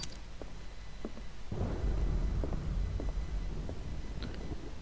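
Thunder in the video game Call of Cthulhu: a deep rumbling roll breaks in partway through and keeps grumbling over a steady low wash, with a few faint scattered knocks and no speech.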